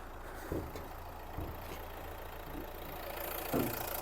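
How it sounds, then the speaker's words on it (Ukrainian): A Renault Megane engine idles with a low, steady rumble, joined by a few soft knocks and thumps nearby. "Робота двигуна."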